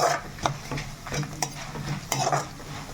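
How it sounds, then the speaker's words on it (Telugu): Dried red chilies frying in a pan for a pudina-coriander chutney, with soft sizzling under a series of sharp utensil scrapes and taps against the pan. "దోరగా ఎండుమిర్చి అనేది కొంచెం దోరగా వేగాలండి"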